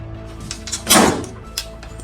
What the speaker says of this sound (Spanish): la puerta se cerró otra vez de golpe